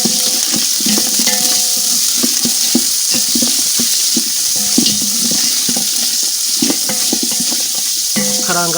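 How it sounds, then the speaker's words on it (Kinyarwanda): Meat frying in a pot for a cassava and cabbage dish, a loud continuous sizzle with repeated clinks and scrapes of a stirring utensil, no talking. "karanga inyama kanya gato"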